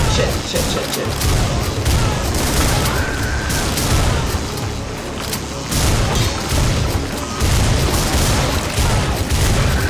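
Heavy gunfire and booming blasts fill a chaotic shooter video game fight, with shotgun blasts among dense, continuous bursts, loud and close throughout.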